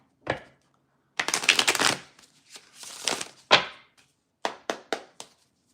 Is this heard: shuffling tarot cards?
yes